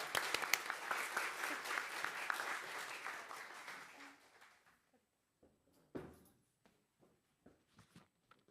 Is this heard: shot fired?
no